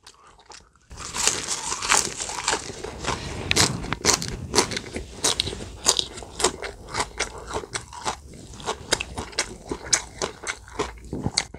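Crispy grilled pork belly is chewed close to the mic in a mukbang, with repeated crunchy bites and wet chewing in a steady rhythm, loud and without talk.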